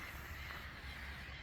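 Mother geese with goslings honk steadily in the background over a low, continuous outdoor rumble in rural Thailand, with no voices.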